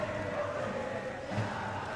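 A crowd cheering at a badminton final: a steady, dense roar of many voices, loud and sustained, with a few louder shouts rising out of it.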